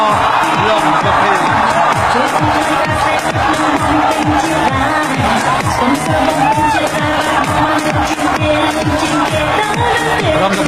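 A dense crowd at a Khmer boxing match cheers and shouts without pause, a loud, steady roar of many voices filling the whole stretch.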